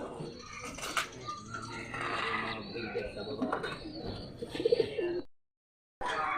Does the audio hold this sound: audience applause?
no